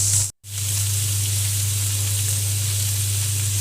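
Masala spices with salt, turmeric and garam masala fry with vegetables in a pan for egg fried rice, producing a loud, steady hiss over a constant low hum, briefly cut off near the start, with no voices.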